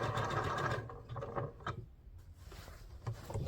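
A sewing machine stitches through the backing of a fabric maple-leaf garden flag, running in an uneven whirring buzz that slows and surges, close and moderately quiet.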